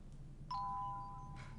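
A short electronic bell chime signals an incoming call at a police headquarters communications screen: a single sustained two-tone ding rings out clearly and fades over about a second, with faint background hum and no speech.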